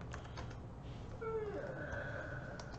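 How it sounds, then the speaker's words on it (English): A cat lets out a single faint meow partway through, under keyboard typing and background noise. "That sounds like a cat."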